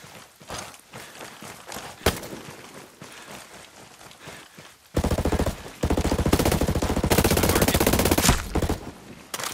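Bursts of automatic gunfire in the Ghost Recon Breakpoint video game, scattered shots and then long sustained rattling volleys, loud and close, with faint movement sounds between them.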